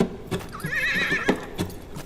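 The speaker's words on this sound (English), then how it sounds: "This is his horse." A horse ridden through the streets of Riga, Latvia, gives a short, wavering whinny while its hooves strike the ground in a few sharp, close clip-clops before and after the call.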